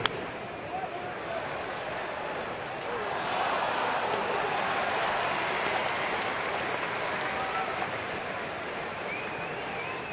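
A baseball stadium crowd at a Dodgers at Phillies game claps in a broad, dense wash of applause and cheering, steady throughout, with a commentator talking over it.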